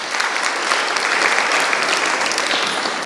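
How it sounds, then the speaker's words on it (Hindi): A church audience breaks into steady, full applause for a woman who answered a Bible question, dense clapping continuing evenly without a break throughout. "जोर से तालियां बहन के लिए।"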